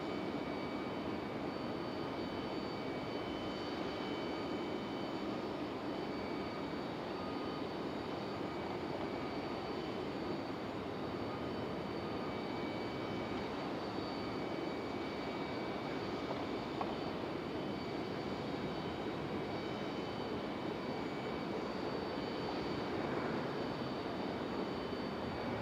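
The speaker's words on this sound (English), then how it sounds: "And that's 737-900." A United Boeing 737-900 arriving from Denver lands at Raleigh-Durham airport, a faint, distant, steady engine drone that holds evenly for the whole stretch without speech.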